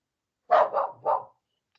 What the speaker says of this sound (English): sorry, guys, about the dog. He's a little anxious